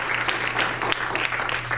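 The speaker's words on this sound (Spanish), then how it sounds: "Denle ese aplauso al nombre de Cristo en esta hora." Congregation applause during a Spanish-language church sermon, a steady dense clapping wash filling the short moment, fairly close and continuous, with no talk over it.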